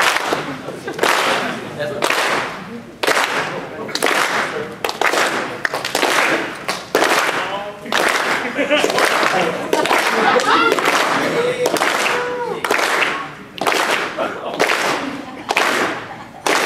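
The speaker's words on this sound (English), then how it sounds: "Let's get a clap." Audience at a ConnectiCon 2014 panel with a guest claps in unison, sharp group claps striking in a steady, repeated rhythm of loud bursts with short gaps, and a few voices in between.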